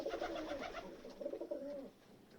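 Racing pigeons at their loft after two frosty nights give soft, throaty cooing in a few rolling phrases. The calls are close but faint and stand alone with no voices.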